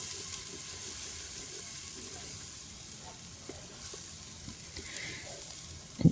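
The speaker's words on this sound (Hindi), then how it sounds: "इसको मिक्स करेंगे अच्छी तरह, इसको भी फ्राई कर लेंगे।" Masala for restaurant-style dal tadka being fried in a pan, a faint steady sizzle with occasional light clinks and stirring scrapes, ending in a short louder knock.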